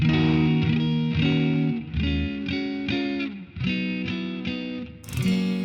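An electric guitar played through a Mooer Preamp Model X set to a slightly dirty Deluxe Reverb voicing rings out a series of strummed chords, each sustaining briefly before the next, with mild breakup and no voices.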